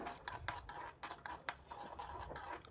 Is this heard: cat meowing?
no